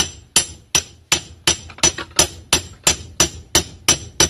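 Hard metallic hammer blows drive a bearing's inner race through a 38mm socket during a Mazda H-series transaxle limited-slip differential install, about eleven loud, evenly spaced ringing strikes roughly every third of a second, close and without speech.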